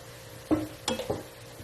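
Pieces of chicken breast go into a pan for a long bean stir fry and are stirred, giving three short, close scraping clatters over a quiet background.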